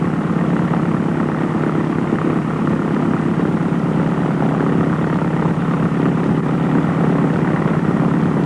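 An aircraft piston engine warming up at a steady 1,000 RPM, a loud, even propeller drone held constant for several seconds with no voices.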